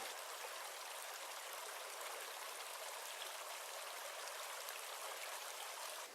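Creek water flows steadily and close by along Big Arroyo Creek in the Sequoia backcountry, where ice lies on the water, a continuous broadband rush with no voices and no pauses.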